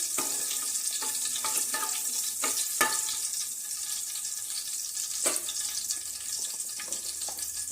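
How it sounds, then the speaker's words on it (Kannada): Black peppercorns and a cardamom pod frying in a pan for a cauliflower and pea curry, giving a steady close sizzle with scattered sharp clicks and taps from stirring, no voices. "ಒಂದ್ 3 ರಿಂದ 4 ಕಾಳು ಮೆಣಸು ಹಾಕಾಕತ್ತನ ನೋಡ್ರಿ. ಇವು ಚಂದಾಗೆ ಸ್ವಲ್ಪ ಫ್ರೈ ಮಾಡ್ಕೋಬೇಕ್ರಿ."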